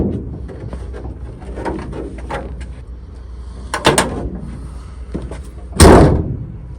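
Lightweight 12-pound doors on a twin-turbo Pontiac GTO street car are handled, with scattered clicks and knocks leading to a sharp, loud door slam near the end.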